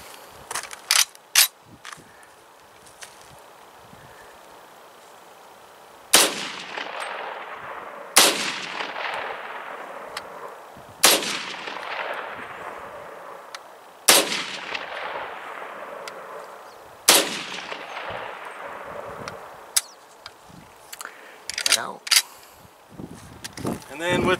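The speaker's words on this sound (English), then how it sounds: "So now, moving on to the M1 Carbine. Mag fed, 30 carbine." Five sharp, loud shots from an M1 Carbine firing .30 carbine rounds, spaced a few seconds apart outdoors, each trailing off in a long echo, with handling clicks before and after.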